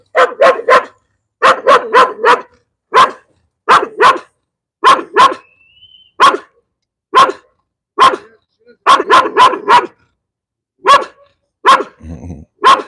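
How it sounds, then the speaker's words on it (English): A dog barks nearby at a storage property in 29 Palms, California, in loud, rapid clusters of two or three barks, pausing briefly between bursts, with a faint growl near the end. "This dog doesn't want to let up."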